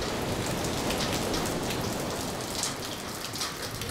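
Monsoon-season rain pouring steadily onto surfaces by the sea, a dense, continuous hiss with scattered nearby droplet spatters, loud and unbroken throughout, with no voices.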